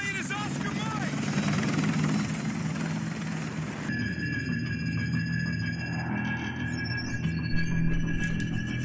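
A military helicopter in Modern Warfare 2 drones steadily throughout, a continuous rotor roar joined by high squeals and shifting mechanical tones, with no talking.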